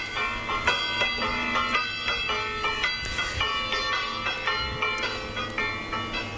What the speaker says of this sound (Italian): Ma sentiamo il suono di queste campane.